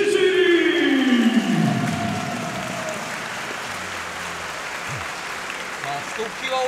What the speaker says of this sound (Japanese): ひときわ大きな拍手が出ましたね